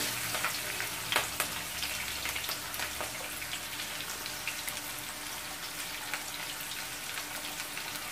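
Onions frying in a pan for beetroot palya, a steady dense sizzle with faint crackles and a few scrape clicks, close and continuous with no talking.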